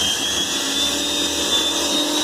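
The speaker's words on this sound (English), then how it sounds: "Right, let's see about drilling a couple of holes." Bosch drill boring a hole with a sharp, fairly new 4.5 mm bit, a steady close motor whine with a continuous gritty hum and no pauses.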